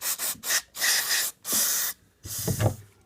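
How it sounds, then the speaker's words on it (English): Several short bursts of contact cleaner spray hiss in quick succession onto the brake caliper pistons of a Triumph Speed Triple R motorcycle, close and loud, with brief pauses between blasts. "Go ahead and spray some contact cleaner on the pistons."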